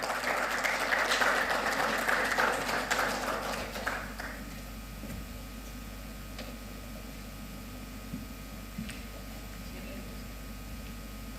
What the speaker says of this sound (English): So a big round of applause for our next guest,